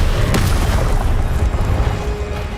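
An Incendio fire spell cast in Hogwarts Legacy on PS5 lands as a loud, deep whooshing burst of flame with a sharp crack at its onset, rumbling briefly before trailing off.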